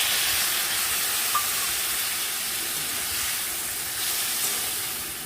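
Ginger and cumin paste fries in oil with tomato and green chili in a home kitchen, making a steady soft sizzling hiss that continues evenly throughout.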